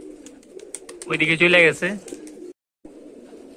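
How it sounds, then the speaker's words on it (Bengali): A Giribaz racing pigeon comes in to land and coos during a 14 km toss, a short, full cooing burst rising over outdoor background noise while someone speaks nearby. "এই যে 72 কবুতরটা নামতেছে"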